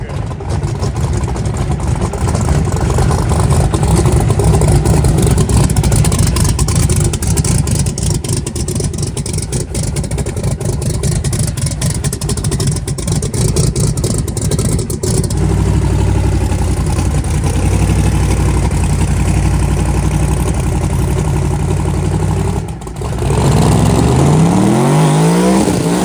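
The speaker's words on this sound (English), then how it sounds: "That's a big old motor right there, buddy. Big old motor." A 5,000 hp Camaro race car engine rumbling and revving loudly up close, with a sustained rough roar and some pitch sweeps near the end, and excited voices talking over it.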